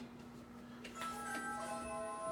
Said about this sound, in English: I'll ring the doorbell real quick.